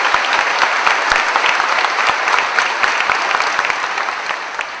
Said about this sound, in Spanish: ¡Fuerte aplauso a San Expedito!